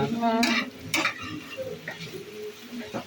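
A spoon scrapes and stirs vegetables around a pan in a few distinct strokes, with a light sizzle underneath.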